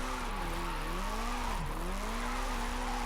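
A Nissan 240SX drift car engine in Forza Horizon 5 roars loudly, revs rising and dipping through a gear change with a brief drop and climb, tire noise underneath, no talking.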